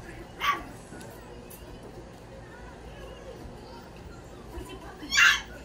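A puppy gives two high, brief yips, one near the start and one near the end, with a quiet stretch of low background noise between.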